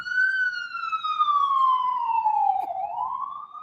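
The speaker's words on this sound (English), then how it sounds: "We got some sirens in the background." An emergency vehicle siren on a New York street wails in one long, slowly falling tone that dips and rises again, fairly faint and distant, with light traffic rumble underneath.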